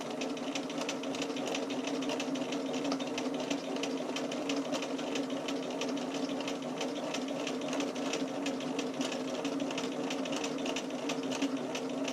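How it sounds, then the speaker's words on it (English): A sewing machine runs a straight stitch around a curved bra seam, its rapid, even needle clatter going on steadily and close for about twelve seconds with no talk. "We're going to sew with a 1/4 inch straight stitch just along this curve."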